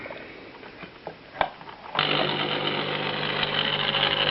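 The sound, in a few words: electric motor humming without turning, series-wound rotor and stator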